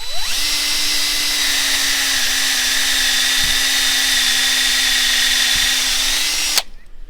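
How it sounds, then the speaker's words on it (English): A power drill bores a 1.25-inch-deep tap hole into a maple tree for syrup tapping, its steady high whine running loud and unbroken for about six seconds before cutting off abruptly. "So you take your drill and you want to be just slightly on an upward angle"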